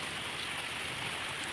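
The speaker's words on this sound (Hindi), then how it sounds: "ओ माय गॉड, कितनी अच्छी अच्छी सी बारिश।" Steady rain falls over a village in Solan under darkening clouds, a soft continuous hiss of drops heard close and fairly faint, with no voices.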